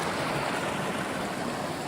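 Steady broadband rush of running water, close and continuous, like a small mountain stream flowing over rocks near Pinchot Pass on the Pacific Crest Trail, with no voices.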